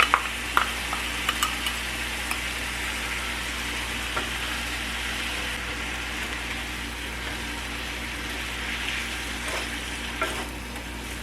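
Ground beef with spices and seasoning being stirred in a frying pan, giving a steady close sizzle with a few scraping stir sounds near the start, loud and continuous without speech.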